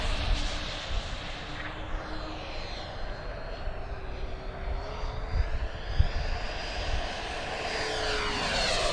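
Taft Hobby Valkyrie 90mm electric ducted fan RC jet flying overhead, a steady rushing whine that rises and falls in pitch as it passes at varying distance, moderately loud with no talk.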